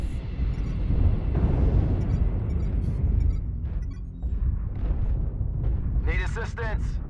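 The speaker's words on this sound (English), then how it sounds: "Artillery strike. Artillery strike." Artillery strike explosions in MechWarrior Online, a dense rumbling roar of blasts and booms layered with crackling bursts, with speech heard near the end.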